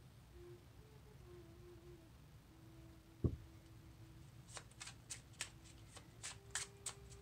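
Cards from a tarot deck shuffled and drawn in a series of quick, crisp flicks and riffles near the end, after a single sharp tap, over a faint low hum.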